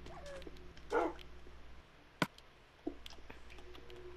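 A Minecraft dog makes a few brief, faint yelps and whimpers, spaced apart over a quiet background.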